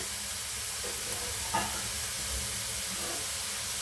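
Leftover rice, reheated in a microwave, fries in a pan for prawn fried rice, giving a quiet, steady sizzle with a brief clink of stirring partway through.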